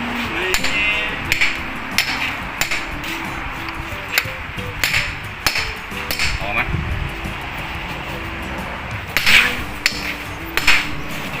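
Repeated sharp metallic hammer strikes at irregular intervals, close and loud, on driveshaft parts of a 2014 Toyota Camry during suspension repair, with a machine hum in the background and people talking.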